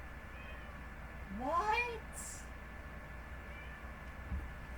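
A pet cat meows indoors with a short rising-and-falling call, moderately close, and a person speaks briefly nearby.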